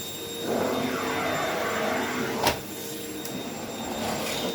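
A Fakir Ranger Electronic 890 W bagless vacuum cleaner runs steadily and loudly with a constant whine, with one brief bump in the middle.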